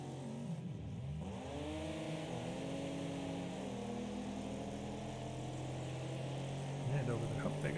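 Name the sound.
race cars driving in the video game Wreckfest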